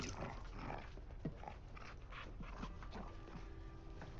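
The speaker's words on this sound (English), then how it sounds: "What a good dog you are." A police dog whimpers and whines in short, soft bursts over a few seconds, set against a busy background of rustling and movement.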